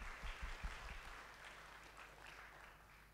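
Faint applause from a church congregation during a worship service, a few distinct claps up front before the sound thins into a soft, diffuse patter that fades quietly.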